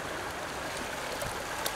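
A small stream runs over a little waterfall beside a quiet eddy, giving a steady, close rush of broadband water noise with faint trickles, constant and unbroken throughout with no voices.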